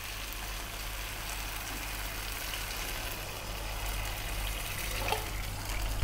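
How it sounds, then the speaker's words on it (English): Water poured in quantity into a pan of browned lamb for a curry, a steady, continuous rushing wash filling the whole stretch at moderate level, with no talking. "we're going to add quite a lot of water"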